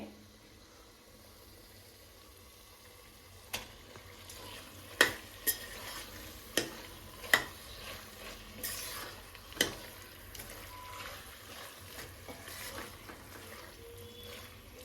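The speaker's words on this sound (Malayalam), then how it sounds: "ഇതൊരു 5 മിനിറ്റ് നമുക്ക് വഴറ്റിയെടുക്കാം" Half a kilo of chicken sautéed with spice powders in a pan for a biryani, with a low steady sizzle and scattered sharp spoon clacks as it is stirred.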